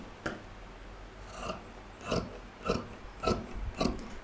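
Fabric shears snipping through kimono cloth at the hem, several separate crunchy cuts in a slow rhythm, close and clear with no talking.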